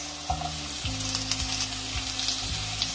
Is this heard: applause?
no